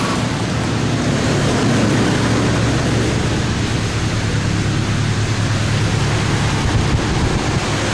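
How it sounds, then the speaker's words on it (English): Large shop fans run loudly and steadily right beside a tuned fifth-generation Camaro 1LE, a constant broadband roar with a low hum that holds without a break throughout. "let me shut these fans off so we're not talking over these things."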